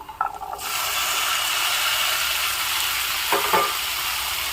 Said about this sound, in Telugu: ఇప్పుడు దీంట్లో ఉడికించుకున్న రాజ్మాని వేసేయాలి.